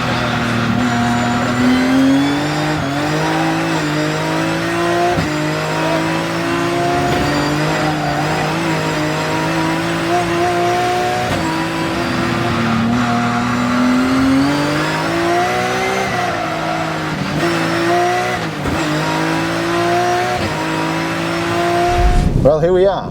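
A BMW M3 race car on slick tyres runs at high RPM on a circuit's back straight, reaching about 210 km/h at 7600 RPM, its engine note climbing steeply through repeated upshifts, loud and close throughout, with someone talking over it.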